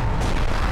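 A loud, dense animated blast from Titan Speaker Man, a continuous booming burst that fills the whole short moment with no pause.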